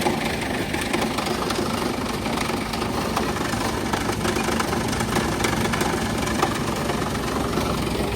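Petrol engine of a bent wood chipper runs steadily after new baffles were fitted, a continuous close, even drone with a slight knocking vibration and no talk.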